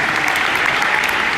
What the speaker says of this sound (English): Big round of applause for these 2 gentlemen.